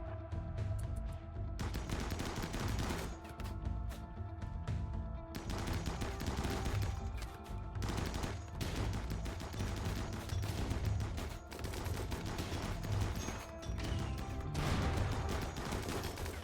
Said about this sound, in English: it's the first time we get to use our better guns